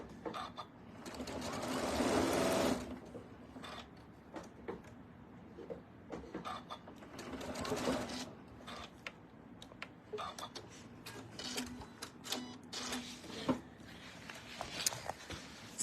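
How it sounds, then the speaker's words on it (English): A sewing machine stitching bias tape down onto a cork organizer, running in bursts of rapid mechanical whirring separated by short pauses, close by, with a voice talking faintly at times. "I'm going to sew this down. I'm going to follow that bias tape guide"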